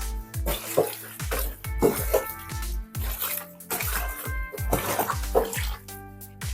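Jerk marinade is poured and worked over chicken pieces in a kitchen, giving wet splashing and dripping in an irregular rhythm close up, and clinking and handling noises run through it.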